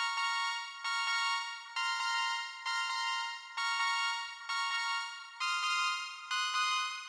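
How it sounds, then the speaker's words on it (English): Dry synth melody from a Tragic cassette preset with effects switched off: bright, bell-like sustained notes in a simple repeating line, soft and alone with no talking. "it's just this Tragic cassette preset that loads in automatically. So I'll turn off the effects really quickly so you can just hear it dry."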